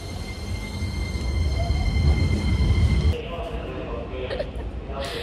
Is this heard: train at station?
yes